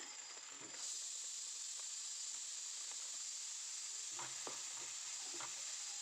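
MTR bisibele bath spice powder sizzles and fries in a pan, a steady high hiss with faint scattered stirring scrapes, close and quiet, no voices.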